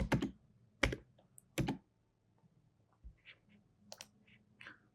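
Keystrokes on a computer keyboard while a message is typed, a few crisp clicks and short bursts of taps with brief pauses between them, close and isolated with no talking.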